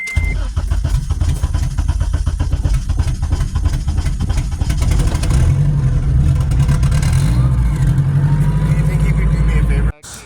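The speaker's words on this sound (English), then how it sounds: "first cold start of the day" A car engine fires up from cold first thing in the day and then revs hard, loud and close, with a steady throaty roar and rising revving before cutting off abruptly near the end.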